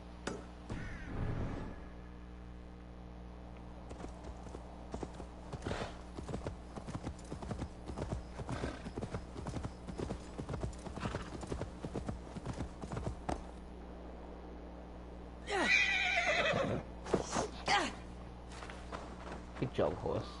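A horse's hooves clip-clop in a steady walking rhythm close by, with a whinny partway through and a person speaking briefly at the start.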